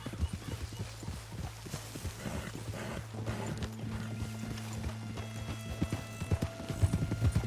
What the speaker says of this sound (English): Mount up then, Morgan.